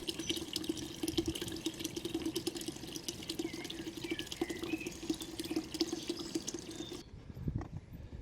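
Water empties steadily from an old stone reservoir structure toward a former canal route, a constant close splashing and gurgling flow that cuts off abruptly near the end.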